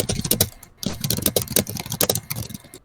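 Rapid, loud typing on a computer keyboard, with close, sharp key clicks running in quick uneven bursts and one short pause, heard alone.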